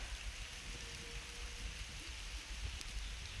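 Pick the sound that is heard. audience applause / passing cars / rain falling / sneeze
rain falling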